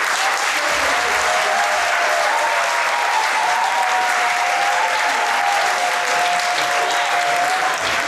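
An audience at a Cameroonian book presentation ceremony applauds steadily and loudly for a speaker's students, a dense continuous wash of clapping that holds for the full stretch with no talk over it.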